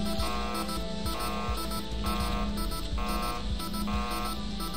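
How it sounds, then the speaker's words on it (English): Electronic alarms in the Tin Can video game blare continuously, a harsh buzzing tone pulsing in a steady repeating rhythm, loud and dominant with no talking. "These damn alarms are just going off like crazy."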